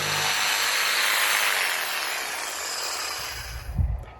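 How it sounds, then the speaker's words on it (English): A jigsaw cuts notches in plywood for a beehive, a loud continuous buzzing rasp heard close up that winds down into a low thump at the end. "So I'll mark it and I'll cut it with the jigsaw."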